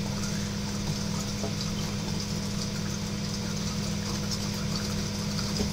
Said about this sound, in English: I literally just open this low valve up and let it go until the drum's empty